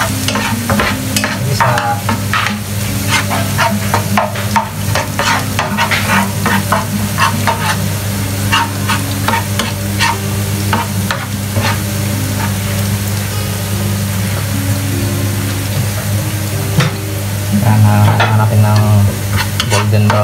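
Garlic fries to golden brown in oil for kare kare, a dense crackling sizzle with many quick pops and stirring clatter, close and loud throughout.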